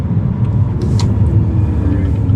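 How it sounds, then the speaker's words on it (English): A car rolls along at low speed with a steady, close, rumbling engine and road drone that persists through the clip, while people talk inside the cabin. "But we're driving pretty slow speeds here."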